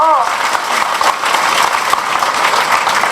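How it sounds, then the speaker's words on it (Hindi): A crowd at an election rally clapping loudly and steadily, dense applause filling the whole stretch, with the speaker's voice briefly over it at the start. "ताली तो बजा दो।"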